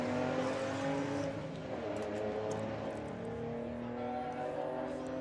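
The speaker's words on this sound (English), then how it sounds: "Peter pulling a very nice wheelie" Car pulling a wheelie at a Bug Jam drag racing event, heard as a steady engine drone with a sustained tonal roar at moderate distance, fairly consistent throughout.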